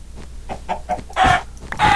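Minecraft chicken clucking in a few short, close bursts, with quieter clucks leading into two louder squawks near the end.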